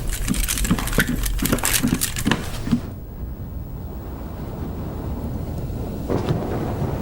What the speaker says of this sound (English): Now it was night. My favorite time of day. A stormy night at that.